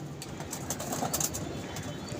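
Pigeons at a pigeon club loft, with soft cooing and light rustling or wing movement close by over a steady background hiss, continuous through the short stretch.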